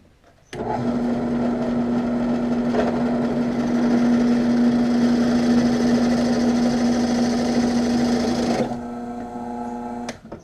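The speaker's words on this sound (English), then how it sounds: "when you drill through, it won't tear the back out so bad" A power drill whines loudly and close for about eight seconds as it bores through wood, then drops to a lower idling hum.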